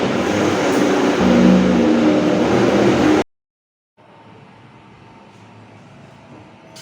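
A Silver Crest blender grinds beans into a dough while running off a 5,000-watt generator. Its loud, strained motor roar cuts off abruptly, then after a moment of silence a fainter, steady hum remains.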